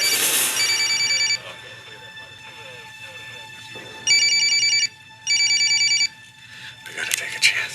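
A mobile phone rings in a tense scene from the TV series 24, its electronic tone sounding in bursts with pauses between them while voices talk in the background.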